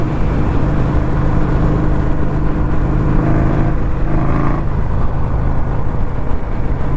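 A 2021 Indian Scout Bobber motorcycle with stock pipes pulls hard in third gear at around 3,500 RPM, its loud, steady engine drone and rushing wind filling the whole stretch with no talk.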